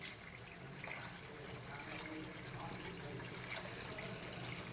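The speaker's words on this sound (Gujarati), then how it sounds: "હવે એમાં પાણી નાખી દો" Water poured over chickpeas in a bowl for soaking makes a steady, soft gushing flow throughout, faint and continuous.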